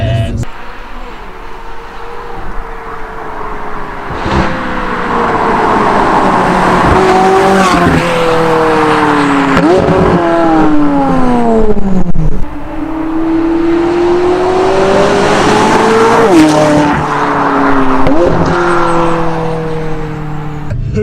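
A McLaren 540C sports car's loud exhaust roars close by as it accelerates and drops through the gears, its pitch sweeping up and falling repeatedly with sharp crackles between shifts.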